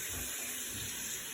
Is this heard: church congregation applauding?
no